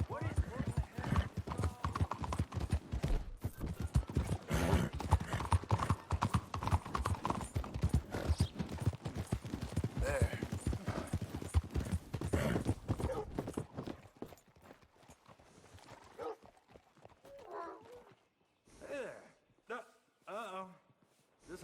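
Horse hooves clip-clop steadily and rhythmically in the game Red Dead Redemption 2, fairly close and loud for most of the ride, with voices talking over them, before the hoofbeats slow and fade to sparse steps and talk.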